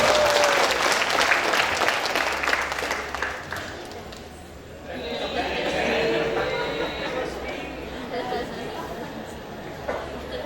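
Audience at a Devfest Bogor 2023 keynote session giving a burst of loud applause that fades after a few seconds, followed by a softer round of clapping and crowd murmur.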